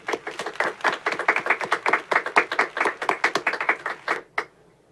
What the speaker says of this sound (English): Let's all show her a round of applause.